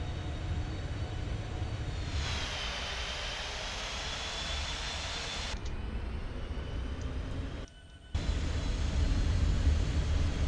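An American Airlines airliner rolls on the runway at Dallas/Fort Worth, bound for Austin, with a steady jet engine roar and rumble heard from inside the cabin, briefly dipping before swelling louder toward the end.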